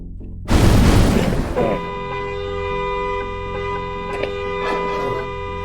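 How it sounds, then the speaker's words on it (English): A loud explosion bursts in the video game Keylocker during a prison-breach scene, a broad roaring blast that decays into sustained alarm-like tones and game music with faint later thuds. "An explosion."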